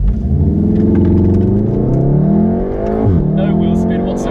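A Golf R and a REVO-tuned Fiesta ST, one car launching hard from a standstill in manual mode, engine climbing loudly through the revs with a brief drop at a gear change, heard from inside with people talking.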